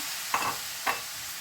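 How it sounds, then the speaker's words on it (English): Wilted Swiss chard and chickpeas stirred in a hot pan, two brief scraping strokes over a constant, even sizzle of frying, close and without voices. "Stir everything to combine."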